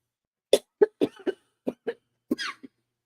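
A burst of about eight sharp, dry coughs in quick uneven succession, close and loud, with brief silences between.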